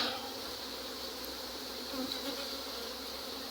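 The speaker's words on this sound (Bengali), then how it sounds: "মৌমাছি যে কোনো সময় কামড়ায় দিতে পারে।" A thick, steady drone of swarming honey bees at boxed hives during honey collection, close and fairly loud, holds unbroken from start to finish.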